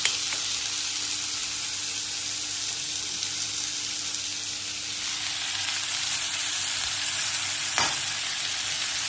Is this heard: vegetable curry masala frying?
yes